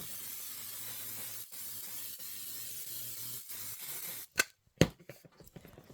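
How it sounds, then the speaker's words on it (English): Fabric pieces are spritzed with a handheld spray bottle: steady broadband hiss of mist for about four seconds, then two short sharp pumps, close and fairly loud, with no talking. "Let's give them all a shot of spray."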